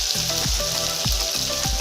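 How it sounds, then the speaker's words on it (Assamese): Mutton sizzling and frying in a pan for a Assamese-style goat curry, a steady close crackle with a few stirring scrapes, no talk. "মই প্ৰথমতে মাংসখিনি 10 মিনিট মান ফ্ৰাই কৰি লৈছো।"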